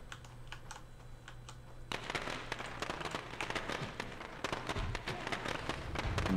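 In the video game State of Decay, scattered soft clicks, then a sudden burst of dense, rapid firecracker pops that crackles on continuously and grows slightly louder, with no talking.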